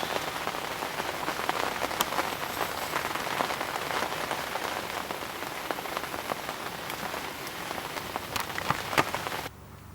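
Steady rain falls on the surface around a lake during a carp fishing session, with a dense, even patter of drops close by that stops abruptly at the very end.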